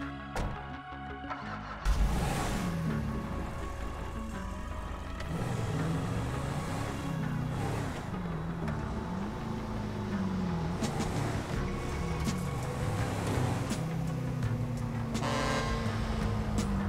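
Car in Grand Theft Auto V starts and drives steadily, its engine droning and shifting pitch as it revs and cruises without pause.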